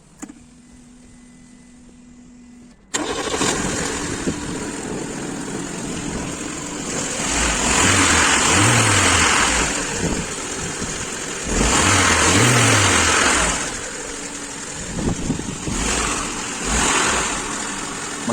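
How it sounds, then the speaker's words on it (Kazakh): A Volga 31105 car engine starts after a quiet stretch, then idles while warming up, its revs rising and falling in several throttle blips under repair-shop conditions, close and loud with no talk. "Машинаны қыздырамыз."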